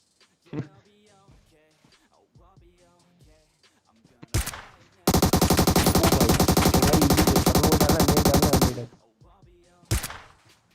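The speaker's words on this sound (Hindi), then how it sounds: "अच्छा हुआ 2 गोली बाकी थी, मतलब पहली गोली में काम नहीं हुआ, लेकिन दूसरी गोली सीधा सर पे जाके लगती है" Gunfire in the battle-royale game PUBG, with an AWM sniper rifle named: a sharp loud shot, then a long dense, unbroken burst of rapid fire lasting several seconds, and one more crack near the end, with quieter game sounds in between.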